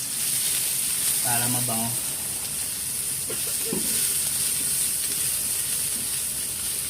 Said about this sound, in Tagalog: Igigisa na po natin yung bawang, sibuyas, luya